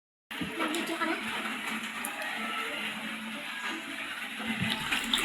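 High-tide seawater flows steadily toward a house by the sea, a continuous rushing wash that stays close and fairly loud throughout.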